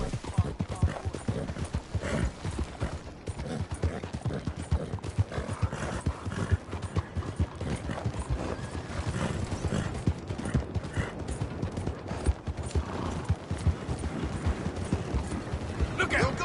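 Horses gallop in Red Dead Redemption 2 with a steady, rapid clip-clop of hooves that runs for the whole stretch, fairly close and dense, under busy game ambience.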